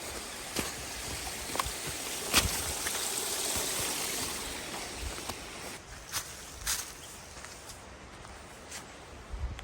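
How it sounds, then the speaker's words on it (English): A creek flowing where two streams meet, in a winter forest at McConnells Mill State Park, Pennsylvania: soft steady water rush with occasional sharp clicks and footstep-like knocks, fairly faint, no talking. "I made it to the intersection of the two streams."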